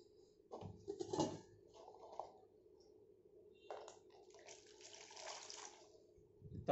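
Tap water runs briefly into a container being filled for Amway dish drop dishwashing liquid, short splashy bursts with quiet gaps between them, close and fairly soft.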